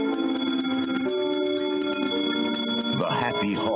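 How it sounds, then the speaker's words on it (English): A bell rings out repeatedly in a haunted mansion setting of a multiplayer video game map, its steady tones ringing over music, with a shift to sweeping swirling sounds near the end. "Wizards and witches, wherever you dwell, give us a hint by ringing a bell."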